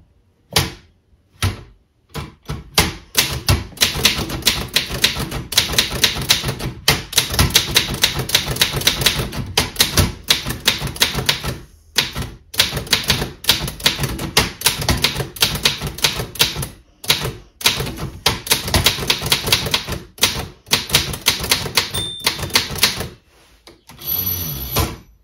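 A 1918 Wanderer Continental Standard manual typewriter being typed on: dense, rapid runs of sharp mechanical key strikes with brief pauses between bursts, close and loud, with no voices.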